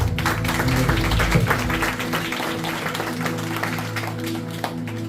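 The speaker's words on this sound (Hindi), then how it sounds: "ताली बजा दी इस परिवार।" A family is welcomed with clapping at a Good Friday church service; scattered hand claps run steadily for several seconds over a low sustained hum, moderately loud and fairly close.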